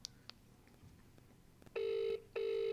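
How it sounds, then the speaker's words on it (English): A telephone rings twice in a steady electronic trill, each burst lasting about half a second with a short gap between, fairly loud and clear against a quiet room background. "It's ringing."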